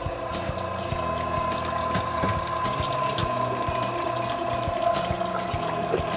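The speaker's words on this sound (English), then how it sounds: "machine separates the skins and the seeds of the tomatoes" Steady mechanical grinding and ratcheting of a food mill machine separating skins and seeds from hot tomato sauce, with repetitive clicks over a continuous wet churning hum, close and constant.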